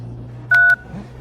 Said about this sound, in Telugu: ఇప్పుడు కాల్ చేయండి.